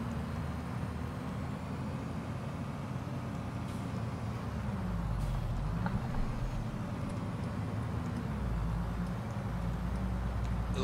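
A truck in Farming Simulator 22 rumbles steadily along a road with a low, constant engine drone and a faint hiss of brakes partway through, loud and continuous with no talk over it.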